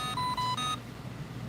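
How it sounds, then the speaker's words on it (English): An electronic device gives short high-pitched beeps, a few quick tones in succession at moderate level against a quiet background, as a low-battery warning. "And it keeps doing a lot of fucking beeping."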